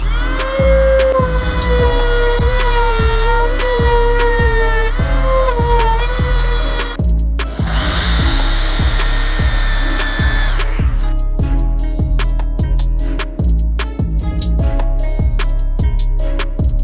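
A power tool cuts holes for switches and sockets in a plastic box, running loud and continuous at close range with a rapid pulsing chatter and a shift in pitch partway through.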